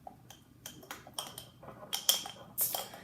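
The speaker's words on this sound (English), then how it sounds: "Then you just mix it up." A spoon stirring chocolate peanut butter banana overnight oats with chocolate powder in a bowl, giving a run of soft, close scrapes and light clinks against the dish, each brief and spaced irregularly, with no talking.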